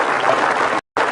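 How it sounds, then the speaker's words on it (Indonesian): Studio audience applause on an Indonesian talk show, steady and fairly loud, briefly cut by a moment of silence before resuming. "kasih tepuk tangan dulu buat mereka"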